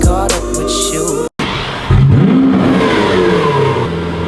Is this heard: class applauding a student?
no